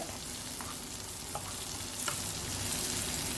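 Capsicum frying in a pan with salt, stirred over a medium flame for an egg and cheese breakfast skillet, gives a steady close sizzle with a few soft scraping stirs, with no voices.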